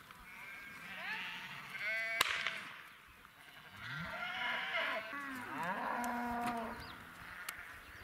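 Cattle moo repeatedly on a village pasture, long drawn-out calls overlapping from a herd with a bull at moderate distance, with a sharp crack partway through.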